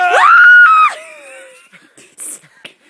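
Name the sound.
girlish shriek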